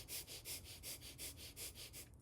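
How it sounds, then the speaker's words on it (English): Bellows breath pranayama: about ten rapid, evenly spaced sniffs in and out through the nose, close and fairly soft, in a steady quick rhythm with no talking. "Bellows breath is just rapidly inhaling in and out of the nose."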